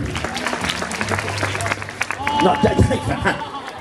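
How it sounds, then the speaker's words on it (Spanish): A crowd claps at a children's clown show at a party, the applause mixed with chatter and a performer's voice, swelling louder toward the end. "Y le damos un aplauso fuerte."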